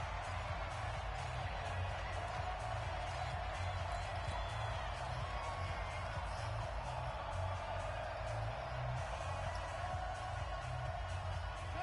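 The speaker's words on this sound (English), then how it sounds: "The crowd getting into it as we come up on a big 3rd down." A stadium crowd roars steadily in the Madden football game ahead of a big third down. The dense, unbroken wash of cheering carries on at an even level throughout, with commentary voices underneath.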